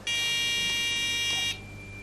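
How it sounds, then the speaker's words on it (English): A contestant's answer bell at a 2009 NSMQ school quiz sounds as one loud, steady electronic buzz lasting about a second and a half before it stops sharply, with no one speaking over it. "When you ring the bell, it means you have a response."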